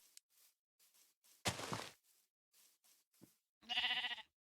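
A sheep in the Minecraft video game bleats while being sheared, a short burst and then a louder wavering bleat, interspersed with quiet clicks and faint game sounds.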